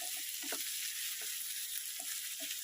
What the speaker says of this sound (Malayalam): അതെല്ലാം ഒന്ന് വഴണ്ട് വന്നപ്പോഴേക്കും എന്ത് അരിഞ്ഞു വെച്ചിരിക്കുന്ന തക്കാളി കൂടി അങ്ങോട്ട് ഇട്ട് കൊടുക്കും